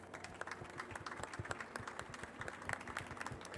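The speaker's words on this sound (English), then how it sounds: "And I would like to round up with a big applaud." A panel session on water resiliency at a water pavilion closes with audience applause, a brief patch of moderately faint, uneven clapping with no talk over it.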